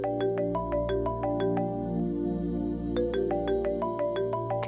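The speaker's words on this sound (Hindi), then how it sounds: "मामू जान का फोन है।" A phone rings with an incoming call, its electronic ringtone playing a repeating melodic pattern of bright tones, steady and moderately loud in a drama scene with no one speaking.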